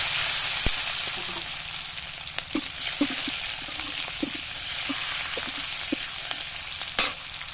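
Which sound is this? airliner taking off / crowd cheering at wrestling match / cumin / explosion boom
cumin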